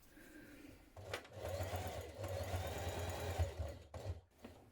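A sewing machine top stitches a backpack in a steady, quiet mechanical whir that starts after a moment and runs for several seconds, briefly slowing over a thick section before stopping.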